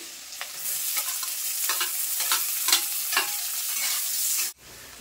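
Chopped onion, green chili and garlic frying in a pan, a bright steady sizzle broken by rhythmic spatula stirs, ending abruptly.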